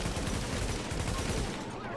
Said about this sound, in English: those burst fire shots worked out